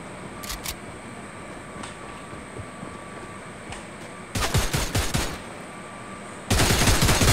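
Gunfire in the Fortnite battle royale game: a few faint distant shots early on, then two loud close bursts of rapid shots near the end over low game ambience.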